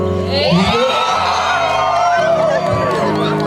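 Loud indoor crowd at a 17th birthday party cheering and whooping together, a dense swell of voices with shrill shouts rising over it, sustained throughout with a brief dip partway.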